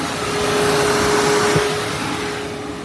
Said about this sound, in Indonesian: Mesin halus, normal. AC juga bagus, nyeteknya kompresornya. Extra fan-nya juga aktif.